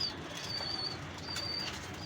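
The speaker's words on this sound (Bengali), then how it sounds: "এটা ওমান টেডি কবুতর" Oman teddy pigeons flapping their wings nearby in short fluttering bursts, fairly faint against a steady background hiss, with no talking.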